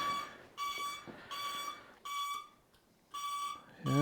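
A motorcycle's turn-signal indicator, tested during servicing, beeps in a steady on-off rhythm: four evenly spaced tones, close and clear, with a faint click at the end.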